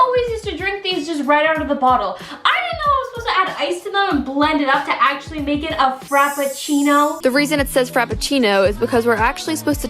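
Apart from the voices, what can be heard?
No everyday noise stands out behind the speech.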